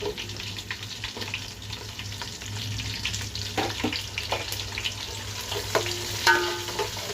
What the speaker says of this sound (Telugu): ఇప్పుడు ఉల్లిపాయ ముక్కలు వేసేద్దాం